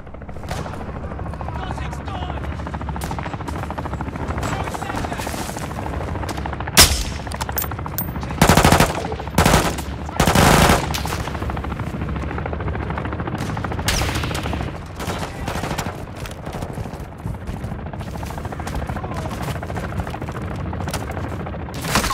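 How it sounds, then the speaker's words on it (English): Game combat in Call of Duty: Modern Warfare II: sustained machine-gun fire and a droning helicopter fill the whole stretch, with louder bursts of gunshots around the middle, while soldiers shout over the din. "Taking fire over here!"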